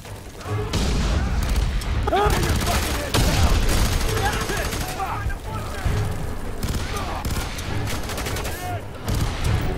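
Gunfire from a weapon in the shooter game FEAR 3, dense, loud bursts and booms running almost continuously with little pause.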